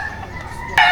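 A Pure Papay Gray gamefowl rooster on a game farm crows loudly and close, the crow starting abruptly near the end of a short stretch of quiet background.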